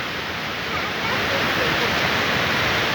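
A waterfall rushing nearby, a dense steady roar of falling water that holds constant and slightly swells in loudness.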